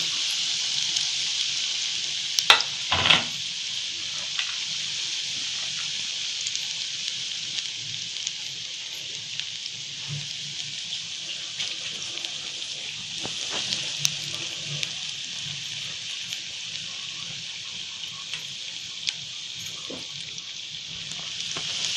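Spinach pakodas deep fry in hot oil over medium heat, a soft, even bubbling hiss that holds steady throughout, with a couple of brief clicks early on and no talking.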